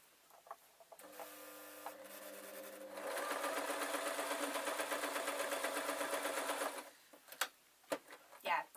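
A sewing machine stitching the seam of a dwarf hat: a slow start of a few stitches, then a steady whirring run of rapid stitching for several seconds, stopping with some handling clicks afterward.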